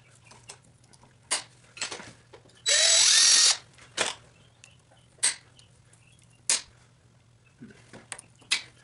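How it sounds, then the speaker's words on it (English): A drill whines in one loud, close burst of about a second while drilling a hole near a log splitter snap ring, surrounded by several sharp metallic clicks and taps in a quiet workshop. "I'm wondering if I can drill a hole in here to be able to get a tool in there and pry it out."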